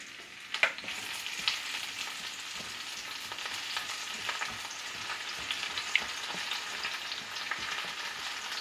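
Mushrooms, onions and garlic fry in hot oil in an iron skillet at home, giving a steady, close crackling sizzle with occasional sharper pops and no talking.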